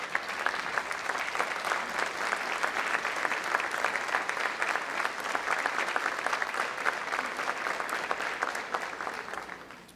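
Church congregation rising to applaud after a sermon, a dense, steady wash of clapping from many hands that holds evenly throughout and tapers slightly at the end.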